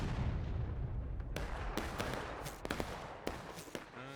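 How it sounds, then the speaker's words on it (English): War of Rights artillery booming in a Civil War–era battle game, a deep low rumble followed by scattered sharp musket cracks at a distance, with faint voices in the background. "Another Artie shot"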